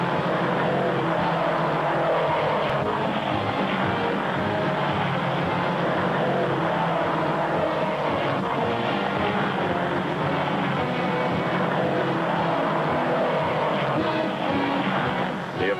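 Hot rod race cars with souped-up V8 engines roaring across the Bonneville Salt Flats in 1989, a loud continuous engine drone with rushing wind and tire noise filling the whole stretch, no talk over it.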